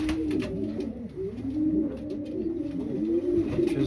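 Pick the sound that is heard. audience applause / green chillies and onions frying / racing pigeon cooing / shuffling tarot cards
racing pigeon cooing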